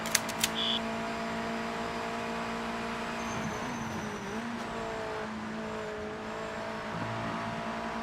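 A Mazda MX-5 race car in the video game Project Motor Racing drones steadily at sustained revs, its engine note wavering slightly as it shifts and passes, with a brief tire squeal and no talking.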